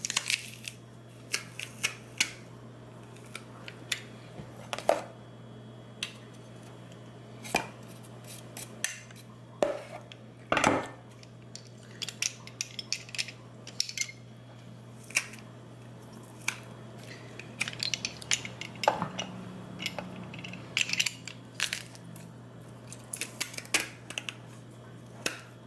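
Ginger and garlic are pressed through a kitchen press into a bowl of vegan kimchi ingredients, giving sharp metallic clicks and squishy crunches in irregular bursts over a steady low hum.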